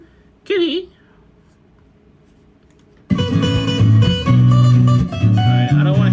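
A cat in a home kitchen gives one short, clear meow in an otherwise quiet room, then loud music and talking abruptly take over.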